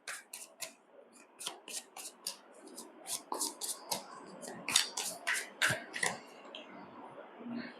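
Tarot cards shuffled and drawn by hand, a quick series of crisp papery flicks and slaps, close and fairly soft, with faint background voice murmuring.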